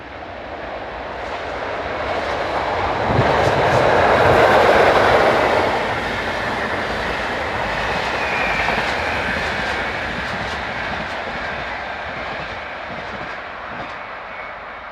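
Electric locomotive 143645 heads an early-morning Osterburken to Stuttgart commuter train around a bend in Germany with a continuous rumbling roar. It swells loudest partway through as the train passes close, then holds steady as it continues by.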